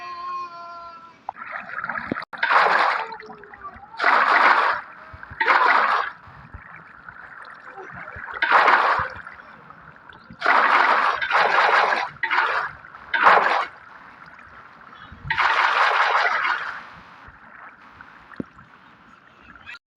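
Water is poured in Minecraft as about ten separate sloshing, splashing bursts of a second or so each, spaced unevenly over quiet gaps, fairly loud and close.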